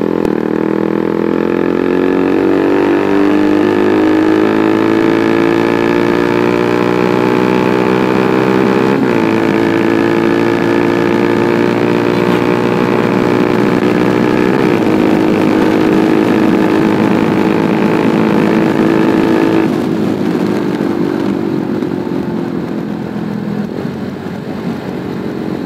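A bike engine runs steadily and loudly nearby, with its pitch rising and falling slightly as the speed changes and no voices over it.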